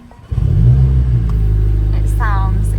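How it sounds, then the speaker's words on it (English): A Mercedes A45s AMG with a sports exhaust fires up after a brief quiet moment, settling into a loud, deep, steady idle rumble close by, with a voice speaking briefly over it. "Turn it on for you and see what it sounds like."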